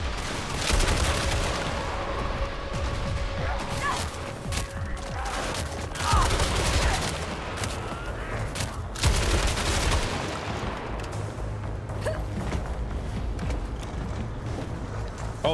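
Gunfire in the video game Resident Evil Requiem, a busy mix of repeated shots and clattering mechanical effects running through the whole span at a steady loud level, with occasional voices underneath.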